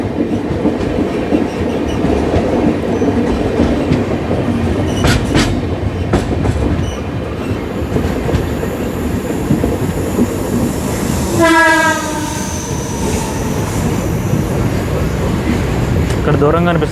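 The 18190 Ernakulam–Tatanagar Express rolls steadily along the Kerala main line near Shoranur, with a continuous rumble and rhythmic clatter of wheels on rail joints, a brief sharp horn or brake tone rising near the end, and occasional voices.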